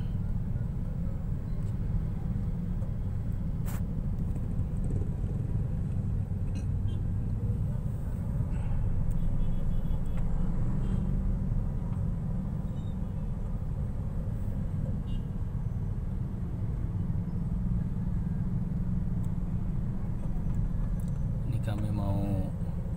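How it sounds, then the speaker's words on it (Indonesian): Dense street traffic in Abepura, a steady roadway rumble of passing cars and motorbikes with an occasional faint horn, constant and moderately distant, with a voice talking over it. "Ini walaupun situasi masih COVID ya, tapi kendaraan sudah padat."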